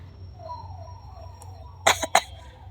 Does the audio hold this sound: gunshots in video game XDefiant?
no